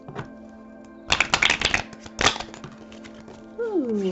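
Tarot cards are shuffled in two quick riffling bursts close up over a soft, steady tonal hum. A brief sliding tone follows at the end.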